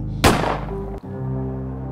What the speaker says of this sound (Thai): ผมเหนี่ยวไกอย่างมั่นใจเสียงปืนดังออกไปไม่รุนแรงนัก